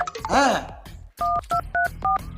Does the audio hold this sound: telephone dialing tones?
yes